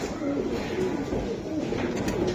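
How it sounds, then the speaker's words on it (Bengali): Giribaz pigeons coo softly and steadily in a pair, low murmuring calls repeating close by against a constant background hum. "দুইটা কবুতর ভাই চমৎকার শেপের, কোয়ালিটি ফুল কবুতর।"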